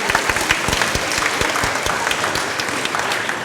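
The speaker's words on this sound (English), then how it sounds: "Yes, it deserves a round of applause." Audience applause at a sixth-grade spring band concert, a steady wash of many hands clapping indoors with no speech over it.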